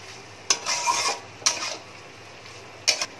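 Spices being stir-fried with elephant foot yam and potato for a vegetarian Bengali dalna, with a spatula scraping and clattering against the pan in three short bursts over a faint sizzle.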